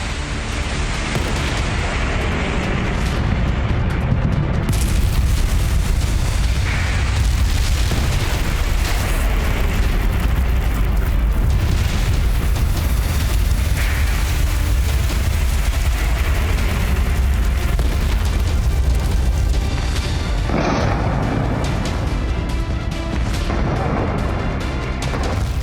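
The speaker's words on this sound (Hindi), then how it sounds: "इजराइल की मिसाइलों का प्रहार, ईरान में हाहाकार।" Israeli missile strikes exploding in Iran, a continuous loud roar of blasts and rumbling booms that stays heavy and dense throughout, with no talk.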